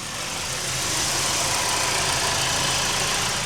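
A 2012 Mercedes-Benz C200 CGI idles just after starting, giving a steady, smooth, close engine hum that holds evenly throughout with no talking.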